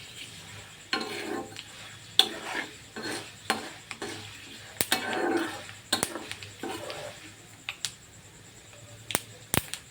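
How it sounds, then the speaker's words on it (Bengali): Spices for chilli achar crackling and spitting in hot oil over a raised gas flame, soft continuous frying hiss broken by sharp pops and a few clinks of a spoon against the pan, no talking. "দেখুন মশলাটা চটপট করছে"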